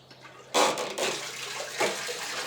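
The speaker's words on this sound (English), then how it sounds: "just start the water flowing and they're fine." Water suddenly starts rushing from an Equi Kool horse leg cooling unit, a close, steady gushing hiss with a few surges, following a short quiet start.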